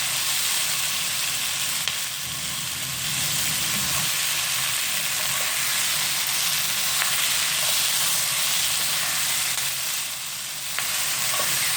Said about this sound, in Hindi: हमारी वेजिटेबल भी सौते हो गई